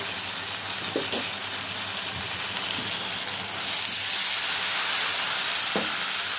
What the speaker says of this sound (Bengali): মশলা একটু কষিয়ে নিলাম